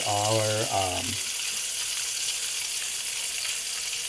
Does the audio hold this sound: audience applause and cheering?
no